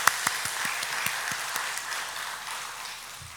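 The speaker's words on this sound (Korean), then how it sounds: "하나님께 영광의 박수 올립시다" A church congregation claps in praise during a Korean worship service, a brief burst of applause with sharp individual claps at first that settles into a steadier, fading patter.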